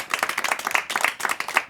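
A small audience at a science talk event gives a brief golf clap, a loose scatter of individual hand claps in quick bursts, fairly close and distinct.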